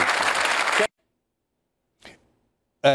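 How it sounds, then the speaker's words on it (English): A short burst of applause cuts off abruptly into silence, followed by a brief faint noise and another sudden burst. "there was some applause there, of course"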